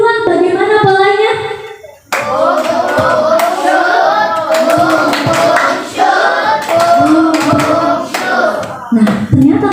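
A class of children claps hands in a repeating rhythmic pattern, loud and close, with a short pause near the start and many sharp claps overlapping throughout.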